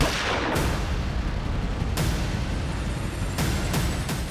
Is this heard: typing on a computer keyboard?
no